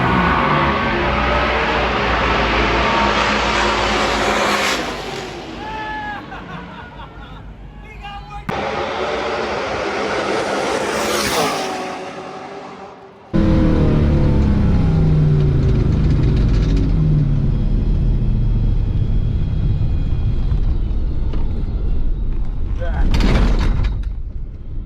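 An LSX-swapped Cadillac Escalade with over 2,000 hp roll racing on an F1 track, a loud sustained engine roar that rises in pitch, cuts out and returns several times, with a voice talking over it.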